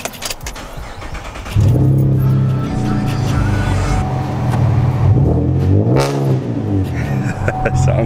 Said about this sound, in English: let's hear a startup here